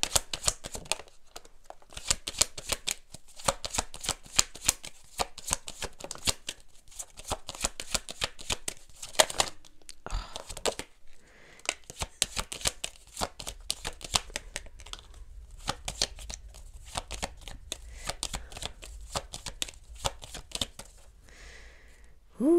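Tarot cards being shuffled, a steady run of crisp riffling and slapping bursts for most of the stretch, near and fairly quiet, with no talking.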